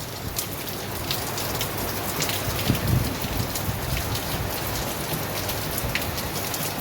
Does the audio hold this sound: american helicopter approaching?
no